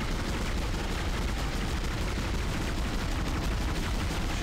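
Heavy gunfire in the video game Dead Space, a dense continuous roar of shots filling the whole stretch at high volume, with no talking over it.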